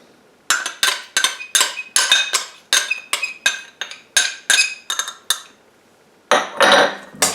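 A spoon clinks repeatedly against a bowl while brown sugar and boiled cider are stirred together, a quick run of sharp close taps with brief pauses, then a final burst of scraping clinks.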